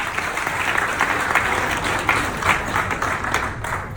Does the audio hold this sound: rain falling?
no